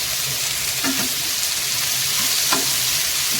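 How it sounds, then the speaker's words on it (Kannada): Food frying in a pan over a low flame gives a constant close sizzle, with a couple of soft stirring knocks in between. "ಈಗ 1-2 ನಿಮಿಷ ಇದನ್ನು ಫ್ರೈ ಮಾಡ್ಕೊತೀನಿ"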